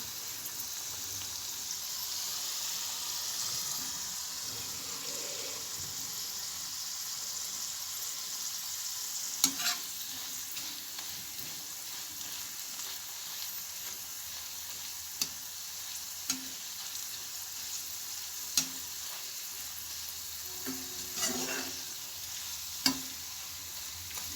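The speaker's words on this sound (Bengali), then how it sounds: "আরেকটু লাল লাল করে জিনিসটা ভাজবো" Potato peels fry in oil until they turn reddish, a steady close sizzle running throughout with a few sharp clicks and light stirring taps now and then.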